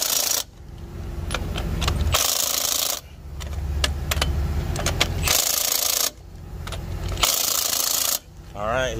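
A wrench tightens the wheel lug nuts on an E450 motorhome in loud, close bursts of rattling impact, about four runs of one to two seconds each, separated by short pauses, with voices over them.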